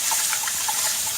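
Dirty rinse water being poured off white rice, a close, continuous splashing trickle with small gurgling bursts throughout the short pour.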